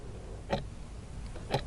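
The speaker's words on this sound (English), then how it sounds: "the sound of the clock ticking is a nice, quiet, and low sort of sound" A wall clock ticks quietly in a still room, two soft, evenly spaced ticks about a second apart over faint background hiss.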